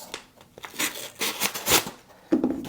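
A knife slices open a cardboard package, making close scraping, tearing and crinkling sounds in short irregular bursts that end in a harder rip.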